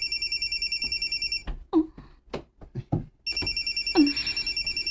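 A mobile phone rings with a steady, repeating electronic trill, stops while a few sharp knocks and bumps intervene, then resumes ringing.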